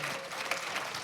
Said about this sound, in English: let's give them all a round of applause for sure